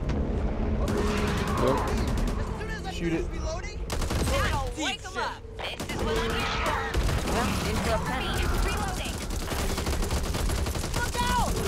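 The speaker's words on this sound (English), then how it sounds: "let's shoot this gas can" Rapid gunfire in the co-op zombie shooter Back 4 Blood as players shoot a gas can, with dense overlapping bursts and booms throughout. Several players talk over the shooting.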